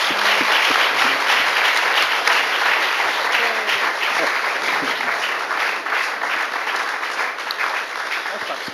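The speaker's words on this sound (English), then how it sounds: "let's give a round of applause for all these wonderful panelists" A large audience gives a sustained round of applause for the panelists at a 2002 Cal Poly Pomona music business panel, dense steady clapping that fills the hall and fades slightly toward the end, with no talking over it.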